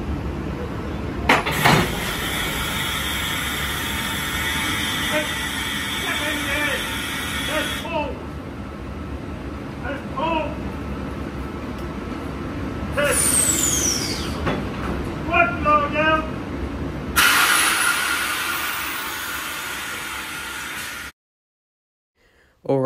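Carriages of a 12-car V-set train coupling at a station, with clanks, knocks and air-brake hisses amid steady rail and platform noise, while people talk nearby.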